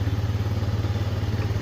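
A Yamaha C3 fuel-injected scooter engine runs close and loud with a fast, even low pulsing, just after starting, with no voices.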